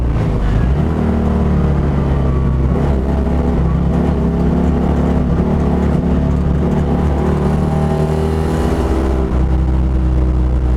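A Citroën Dyane 6 race car from the Spa 24 Hours is driven hard on the Calafat circuit, its small engine droning loudly and steadily with shifting revs from inside the car.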